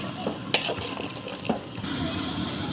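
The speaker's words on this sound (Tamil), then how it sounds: "இப்போ இதையும் சேர்த்து நல்லா வதக்கி எடுத்துக்கலாம்." Boiled double beans being sautéed in a large pot for veg biryani for fifty people, with a low sizzle and a few clanking stirs of a metal ladle against the pan, close by and without speech.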